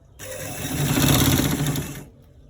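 Sewing machine stitching stretch fabric around a collar roll, one continuous fast run of about two seconds with a steady motor whir, close and loud, stopping cleanly.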